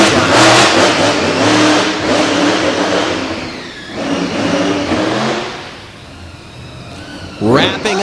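A Chevrolet Silverado truck's engine revs hard through an obstacle course at an event, rising and falling in loud surges over a crowd and an announcer's commentary.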